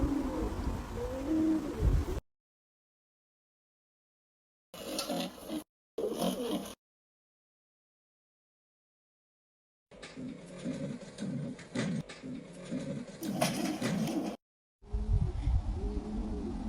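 Low, hollow cooing calls in short bursts separated by silence, a speculative reconstruction of a dodo call, a deep pigeon-like voice with a soft breathy quality.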